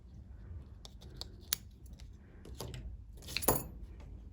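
Scissors snip through small pieces in a series of sharp, close clicks and crisp cuts, with faint metallic rattles in between, and no one speaks.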